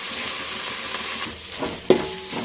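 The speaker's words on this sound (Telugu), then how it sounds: "ఒక 2 మినిట్స్ మనం దీన్ని ఫ్రై చేసుకున్నాం" Bagara rice ingredients fry in a pan with a steady, close sizzle and a sharp scrape of a stirring spoon near the end.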